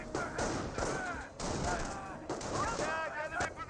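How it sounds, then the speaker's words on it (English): Rifle fire from a squad garrisoned in a building in the strategy game Company of Heroes, rapid cracking shots in quick succession with battle noise, under someone commentating. "Now he only has 2 windows firing."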